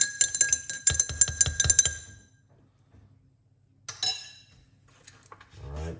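A spoon stirring a drink with a dash of cayenne pepper in a glass, a quick series of bright clinks against the glass, then a pause and a few softer taps and a faint handling sound.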